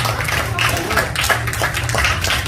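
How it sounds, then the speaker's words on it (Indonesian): Audience applause at a business seminar fills the hall with steady, dense clapping from many people, along with a loud low hum from the venue's sound system. "Beri tepuk tangan yang luar biasa Bapak Ibu buat orang-orang yang sangat luar biasa."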